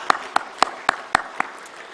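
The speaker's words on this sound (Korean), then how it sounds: "여러분 이분들을 위해서 큰 박수로 여러분 격려와 그리고 또 well wish를 전해주시기 바랍니다" A church congregation at a Sunday morning communion service claps for students from Nigeria, six sharp, evenly spaced claps in unison that fade out toward the end.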